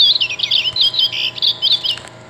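Purple finch song played from a Wild Republic Audubon plush toy's sound box: a continuous, bright, warbling run of high chirps lasting a couple of seconds, fairly loud and alone, with a faint electronic hum beneath.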